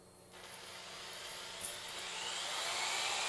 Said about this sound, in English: The holes I'm drilling are 1/8 of an inch